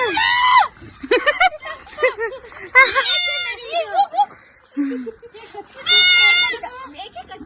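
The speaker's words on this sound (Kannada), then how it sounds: "ಮೇಕೆ ಕಣೆ, ಅದು" A goat bleats loudly and close by several times, with quavering cries breaking in between stretches of people talking.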